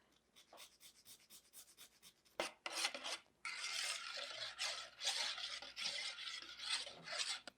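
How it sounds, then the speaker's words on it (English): Whole nutmeg rubbed over a small nutmeg grater for a béchamel sauce: quiet rhythmic rasping strokes, short at first, then longer and denser scraping, close by and without talk. "I grate my own nutmeg with this little nutmeg grater."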